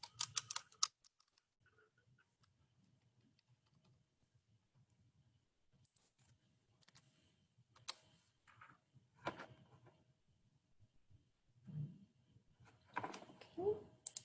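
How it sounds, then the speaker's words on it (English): Sparse keystrokes on a computer keyboard while entering a label into a spreadsheet cell, quiet clicks scattered across the clip with a few louder bursts near the end. "in cell A6, I'll go ahead and type expenses."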